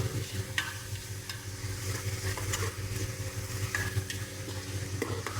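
Onions browning in a pan for a Telangana-style boti (tripe) curry, with a steady low sizzle and occasional spoon scrapes and clicks, close and continuous with no talking.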